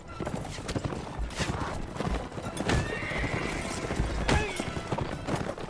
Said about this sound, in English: Wow, look at all that armored horse.